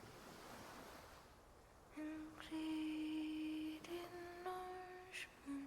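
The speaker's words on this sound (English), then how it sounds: "the sound of the ocean" Ocean waves washing against a gloomy shore in the video game Love and Deepspace, a soft rolling surf heard alone at first before sustained musical tones rise over it.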